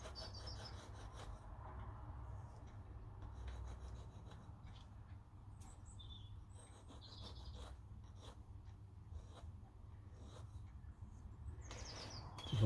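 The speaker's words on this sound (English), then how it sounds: "What I do need to do is just to deburr the top here." A metal file deburrs the top edge of a mini mill vice stop, giving soft, careful scraping and rubbing strokes that stay quiet and close over a low background hum.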